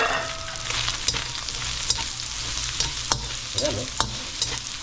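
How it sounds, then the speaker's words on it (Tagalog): Garlic sizzles in hot oil in a pan with steady frying noise and sharp scrapes from a stirring utensil, close up, while a voice speaks briefly near the start; the dish is a sauté of bamboo shoots with santol. "Lagay naman natin ngayon yung ating bawang."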